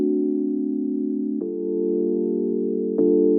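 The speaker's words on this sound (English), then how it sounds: "It is the Mark 1 Warm Tines preset, and then I just added this EQ and this shaper box, and it sounds like this." An electric piano built from a Mark 1 Warm Tines preset, run through an EQ and a shaper box, plays three sustained mellow chords, each changing with a soft attack, loud and close, with no voices.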